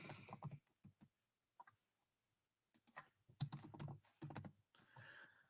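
Keys tapped on a computer keyboard in short uneven bursts, close and fairly quiet, with pauses between keystrokes and no talking.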